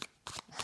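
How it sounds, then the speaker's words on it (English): Tarot cards are shuffled in two short, crisp bursts of riffling, close and quiet, with no voice. "I am shuffling"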